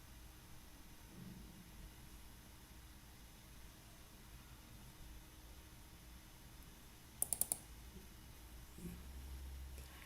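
Three quick computer mouse clicks in a rapid burst, made while running a Spring Boot project from a Java IDE on a computer. They stand out sharply against faint steady background hiss.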